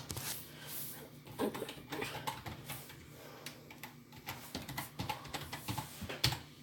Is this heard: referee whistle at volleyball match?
no